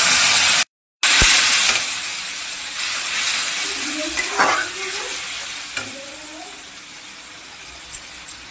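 Ginger and onion paste fries in a pan with a loud, steady sizzle and hiss. A short silent gap breaks it near the start, and faint stirring scrapes follow.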